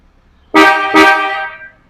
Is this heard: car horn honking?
yes